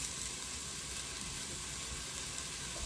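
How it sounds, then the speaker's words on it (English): Diced medium onion sautés in a pan for lentil soup, a steady, even sizzle heard close up with no talk. "So I've got 1 medium onion that I've diced going in the pan."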